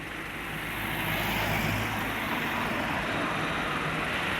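Cebu Pacific airliner on the runway as it takes off, a steady broadband jet roar that swells slightly and holds loud and continuous throughout, with no talk over it.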